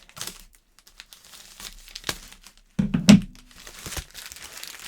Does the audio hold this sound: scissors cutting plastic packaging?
yes